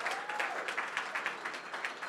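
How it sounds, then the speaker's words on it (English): Audience applause at a startup event greets volunteers coming to the front, a steady rhythmic clapping from a modest crowd, moderately loud and without talk. "Can we get a round of applause for these lovely people?"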